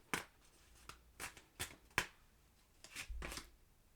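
Tarot cards shuffled and drawn by hand, a quiet close series of sharp riffling bursts and soft slaps at uneven intervals, ending in a longer shuffle.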